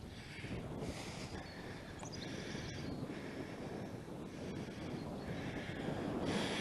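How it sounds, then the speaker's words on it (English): Wind buffeting a microphone while cycling into a breeze along a country road, a steady low rumble and roar throughout with faint intermittent higher hissing, no talking. "It's a bit breezy now, facing into the wind."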